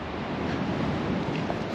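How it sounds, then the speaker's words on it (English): Ocean waves two to three feet high break on a beach on a clear morning near Palma, making a continuous broad wash of surf mixed with wind buffeting the microphone, with no talk. "The waves are like pretty reasonably big actually."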